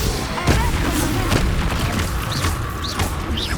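Expulso spell explosions in the Hogwarts Legacy video game, several booming blasts and thumps landing over about three and a half seconds amid continuous noisy combat ambience, with a voice calling out partway through.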